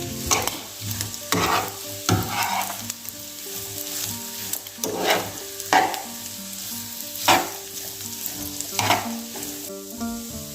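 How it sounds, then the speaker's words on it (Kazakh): Liver and onions frying in a pan, with a steady sizzle broken every second or two by the scrape and clatter of stirring, close and clear with no voices. "Енді оның үстінен пиязымызды салып, тағы 1-2 минут қуырамыз."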